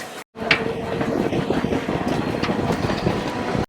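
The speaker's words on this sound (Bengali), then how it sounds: "ট্রেন এসে পৌঁছালো নলপুর স্টেশন আর অনেকটা সময় কিন্তু আমরা ট্রেনে জার্নি করছি" A train rumbles steadily along the rails with a dense, continuous clatter, loud and close, with no one talking.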